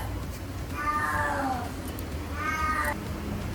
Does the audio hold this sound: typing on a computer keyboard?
no